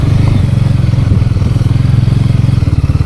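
Close, steady chugging of a motorcycle in low gear climbing a steep, rough mountain trail in the Alps, with a regular throbbing pulse and occasional clatter and thumps from the terrain.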